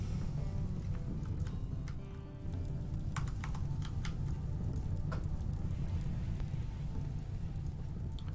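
Continuous rain falls in the colony game RimWorld, a dense steady hiss with occasional sharper drop ticks and a faint low rumble, with no one speaking.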